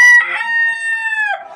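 A rooster crows once, loud and close, in a long drawn-out call that holds steady before dropping off at the end, with no talk over it.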